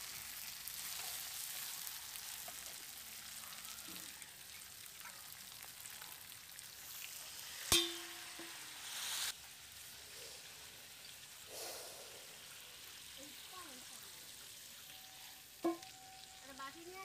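Chicken curry sizzling and frying in a pot on a clay stove after water is poured in, with a steady crackling hiss, brief splashes and a couple of louder clinks, no talking.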